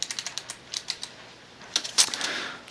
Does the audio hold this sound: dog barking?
no